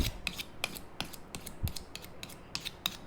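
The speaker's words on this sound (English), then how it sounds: "I'm going to have to sharpen this knife because it's just not doing too good on the cutting end" Dull knife being sharpened, a series of close scraping and rasping strokes that repeat in an uneven rhythm over a low background rumble, with no speech.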